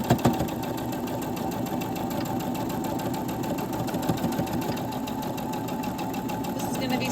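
Sewing machine stitching a tiny mini stocking with a quarter-inch seam, a steady close mechanical whir with a fast rhythmic chatter that runs continuously without pause.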